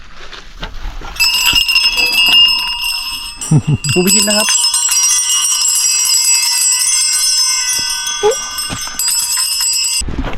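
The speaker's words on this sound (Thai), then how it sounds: "ตามต้นก็จะมีพวกกระดุมกระดิ่งเขาติดไว้นะครับ" Small bells hung on trees along a mountain trail at Doi Samoen ring in a sustained, bright shimmering chime for most of the stretch, loud and close, with someone talking briefly partway through.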